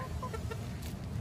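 Backyard chickens in a coop, a few soft clucks heard at a distance over a low steady background rumble.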